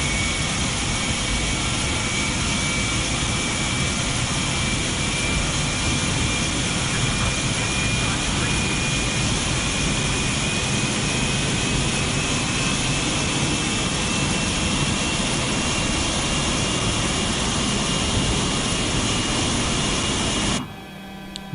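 The engines of an SAS DC-9-10 airliner drone loudly and steadily at Copenhagen in Microsoft Flight Simulator 2020, with a thin rising whine over a broad roar and an abrupt drop at the very end.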